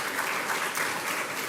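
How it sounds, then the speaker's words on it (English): An audience at a county trails summit gives a brief, dense burst of applause lasting under two seconds, steady and fairly loud, with no talking over it. "Can we please give them a round of applause?"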